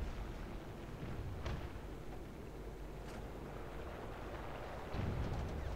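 Marder III tank gunfire in War Thunder: a couple of sharp cannon shots stand out over a constant rumbling engine and battlefield noise, with a heavier boom near the end.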